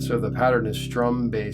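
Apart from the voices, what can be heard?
None of the usual background noises is heard.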